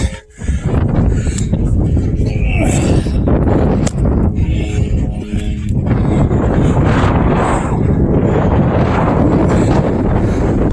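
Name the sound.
wind blowing on camera microphone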